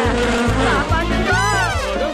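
Mosquitoes buzz loudly in a Motu Patlu cartoon, a whiny insect drone that wavers and swoops in pitch over a pulsing low rhythm, with a voice briefly heard over it.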